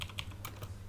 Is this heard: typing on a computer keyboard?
yes